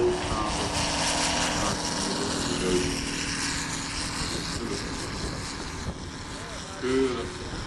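Model aircraft engine droning steadily overhead at a 1995 seaside model airshow at De Kooy, a thin buzzing whine that rises and falls faintly in the wind, with a commentator talking over it.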